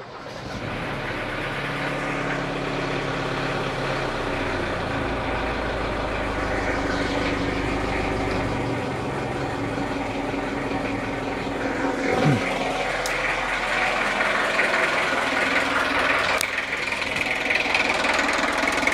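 A 2.1 diesel engine in an Opel Rekord that is burning oil idles with a steady, close, rough knocking rumble, with a few light clicks and handling noises along the way and no talking.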